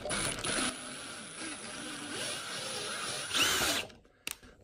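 A power drill whirs steadily as it backs a 1/4-20 drill-tap-countersink bit out of freshly cut threads, then cuts off with a couple of sharp metallic clicks at the end.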